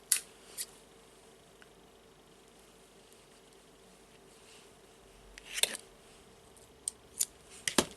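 Scissors snipping yarn for a Christmas friendship bracelet, a few crisp close cuts scattered over a quiet background, with a brief cluster of snips near the end.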